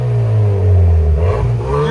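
A 2024 Hyundai Sonata N-Line with a 2.5L engine and Valvetronic Designs universal muffler exhaust revs loud and close. Its deep exhaust note swells and eases in a short, continuous burst with no voices.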